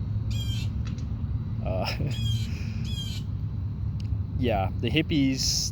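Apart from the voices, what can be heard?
bird calling in the background, likely a crow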